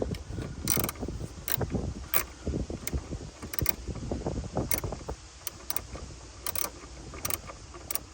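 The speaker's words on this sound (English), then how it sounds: "We're gonna go ahead and loosen this bolt just a little bit." Ratcheting clicks and metallic tool sounds from loosening a ground bolt on a 2019 Dodge Charger SXT, with short bursts of clicking spread across the clip over low handling noise.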